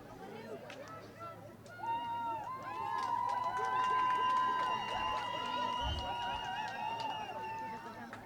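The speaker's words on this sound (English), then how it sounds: "The excitement you can hear in the crowd is" Spectators at a schoolboys' first-team hockey match between Windhoek High School and Windhoek Gymnasium, a moderately distant crowd swelling with whistles and raised shouts that build and hold, while a commentator talks over it.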